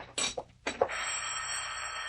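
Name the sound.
telephone ringing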